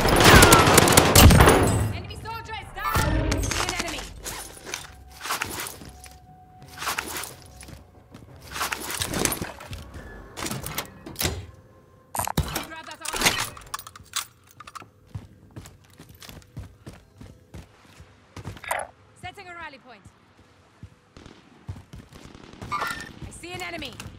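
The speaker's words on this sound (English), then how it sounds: "The enemy is firing at me." Enemy gunfire in the Call of Duty Warzone video game on Rebirth Island, with loud bursts and scattered cracks of shots early on that thin to sparser, fainter firing over a busy game soundscape.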